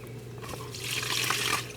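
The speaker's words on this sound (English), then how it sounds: "we pull the gate valve and dump, oh, I don't know, 50 gallons of sewage through this thing" Sewage rushing through an RV drain pipe after the gate valve is pulled, a faint steady gushing and gurgling flow with a low hum underneath.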